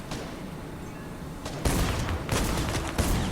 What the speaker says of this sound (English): someone's shooting up at me or someone behind me?